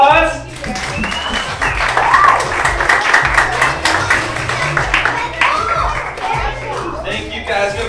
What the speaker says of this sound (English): give them one more nice round of applause